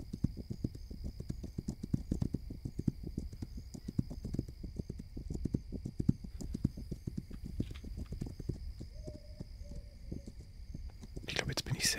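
Steady, rhythmic clip-clop of horse hooves in the video game This Land Is My Land plods along at an even pace, with a faint high steady tone in the background and a brief chime near the end.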